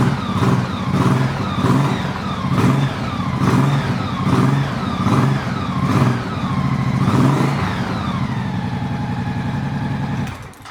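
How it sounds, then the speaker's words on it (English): A Honda motorcycle engine idles close by while the throttle is blipped again and again in quick revs, each rising whine falling back to idle, then it cuts off. "The engine actually sounds almost like it's new. It's got that Honda whine sound."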